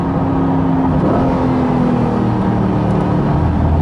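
A 2020 Corvette C8 Stingray Z51 pulls away under full throttle, its engine a loud, close roar that builds steadily through the run, with no speech.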